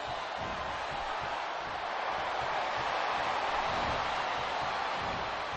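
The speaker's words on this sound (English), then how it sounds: "This capacity crowd is making their opinions known tonight" Capacity crowd in a WWE wrestling video game arena, a steady, even roar of many distant voices holding at one level throughout with no distinct calls or breaks.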